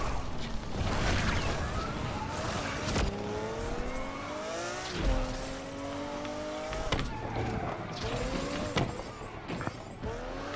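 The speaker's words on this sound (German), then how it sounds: "Rev up, gear up, burn out." A street-racing car in Need for Speed Unbound revs hard and accelerates through the gears, the engine note climbing repeatedly and loudly with brief dips at each shift, alongside occasional tire noise.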